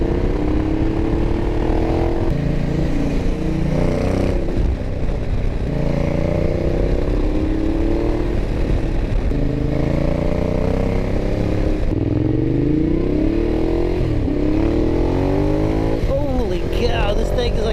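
A 2012 Ducati Diavel accelerating hard on a road, its engine a loud continuous roar with rising and falling revs and wind buffeting throughout, while a rider talks over it.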